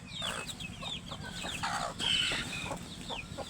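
Young desi chicks peep in quick, high, repeated chirps while being tended, with a few soft clucks mixed in. The sound is close and continuous, with no talk over it.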